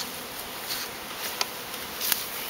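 Honeybees buzzing during a hive installation, a dense continuous swarm hum with a few brief louder passes close by, no voices.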